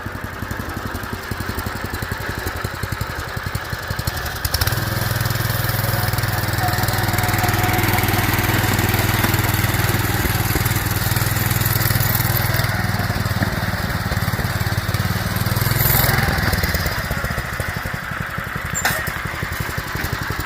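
A lawn tractor converted to a go-kart drives on a trail, its small engine droning loud and close with a steady low hum, then easing off before the end.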